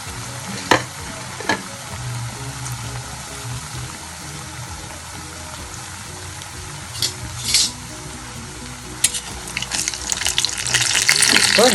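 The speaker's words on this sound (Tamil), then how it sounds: "இப்போ கடுகு வெடிச்செடுத்து இந்த அரைச்ச விழுதை அதில் போடும்" Ground lentil paste for cluster bean paruppu usili frying in coconut oil over spluttering mustard seeds, a steady close sizzle broken by sharp spatula scrapes and knocks, swelling into louder bubbling crackle near the end.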